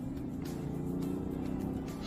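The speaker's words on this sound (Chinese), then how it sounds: "虽然它只是一台6缸发动机，但是啊，它发出那种咆哮声" A Range Rover Sport six-cylinder engine roars under hard acceleration, a sustained low, throaty drone with rising harmonics, heard from inside the cabin at moderate level.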